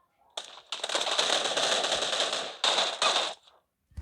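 Rapid automatic gunfire from the mobile battle royale game PUBG Mobile, a long sustained burst followed by a shorter one after a brief gap, loud and close with no talking over it.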